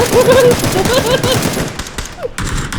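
Gunfire from the battle royale game PUBG, a rapid burst of automatic shots at the start, loud and close, thinning into scattered rattling shots, with game noise throughout.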